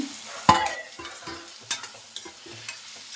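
Washed raw prawns tipped into a hot pan for a prawn curry: a sudden loud splash-sizzle, then a few scattered crackles and spoon taps over a low fry.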